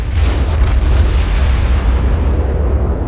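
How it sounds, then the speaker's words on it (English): Naval gunfire in the World of Warships video game, a dense, booming roar of heavy shots that holds loud and continuous for a few seconds, with no talking. "I see that destroyer over there shooting at me"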